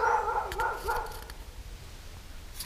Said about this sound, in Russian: Собака, перестань гавкать.